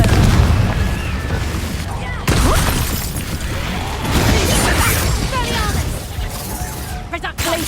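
Confringo fire spells burst in a Hogwarts Legacy duel, loud booming and crashing impacts repeating through dense combat noise, with a voice shouting spell names over the blasts.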